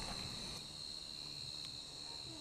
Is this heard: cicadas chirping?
yes